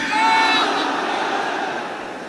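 A large crowd gathered outside a political rally roars back a religious slogan in unison, one loud swelling shout that peaks early and slowly fades.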